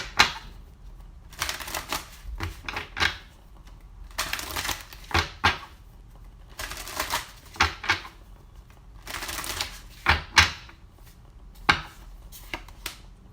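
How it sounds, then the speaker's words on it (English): Tarot cards being shuffled by hand in a quiet room, giving repeated bursts of riffling and flicking with short pauses between, close and fairly loud, with no talking. "So let's get some tarot cards to clarify"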